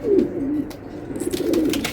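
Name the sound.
racing pigeon cooing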